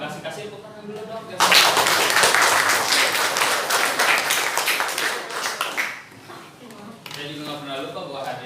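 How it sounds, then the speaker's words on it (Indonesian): A classroom group breaks into lively applause, loud and sustained for several seconds, with a voice speaking before and after the clapping. "Kasih tepuk tangan dulu dong."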